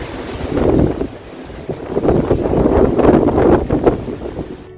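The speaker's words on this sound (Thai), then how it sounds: "ตรงนี้เป็นจุดที่ลมแรงมากๆเลยนะคะ" Strong sea wind at a coastal viewpoint, rough gusts buffeting the microphone with a steady roar of waves beneath, loud and continuous with no voices.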